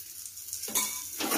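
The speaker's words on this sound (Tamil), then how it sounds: "இப்போ திருப்பி போட்டு கொஞ்சமாக எண்ணெய் ஊற்றிக்கலாம்." A paratha fries in a pan with a little oil, sizzling softly, then swelling into a louder crackling hiss in two bursts as the oil hits the hot surface.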